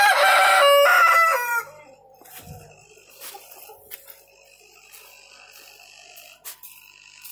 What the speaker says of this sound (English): Okay, Mr. Rooster, Russell, Crow.